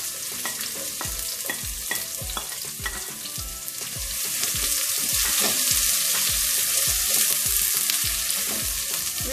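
Chopped onions hit hot oil with crackled cumin seeds and sizzle steadily, a spoon stirring in sharp regular scrapes and taps, the hiss growing louder partway through.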